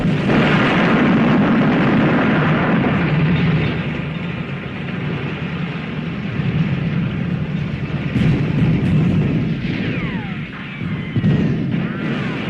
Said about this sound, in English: That sounds a little bit like Bugs Bunny, some of those gunshots.